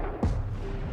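A single heavy gunshot rings out in a film scene as Evelyn fires at a monster: one loud, booming blast near the start that decays into a low rumble, with no voices.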